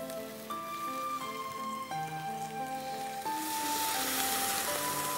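Beef being sautéed over onion in a pan, sizzling under steady tonal music; the crackling hiss starts soft and swells noticeably louder in the second half.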